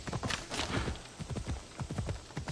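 A horse in Assassin's Creed Odyssey galloping with rapid, rhythmic hoofbeats, steady and fairly close, running without pause and with no voices.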